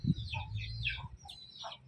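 Country chickens raised on a small farm cluck in a brief, close burst of short bright calls, a couple of hens chattering over quiet low background noise.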